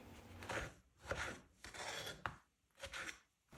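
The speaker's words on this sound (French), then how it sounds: "Puis coupez chaque fraise en petits morceaux." A knife cuts strawberries into small pieces on a board, with several soft, close chopping strokes in an uneven rhythm and brief pauses between them.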